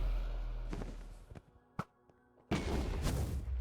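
End crystals exploding in Minecraft: a loud burst of blast noise, a short sharp thump in the middle, then another heavy explosion rumbling to the end.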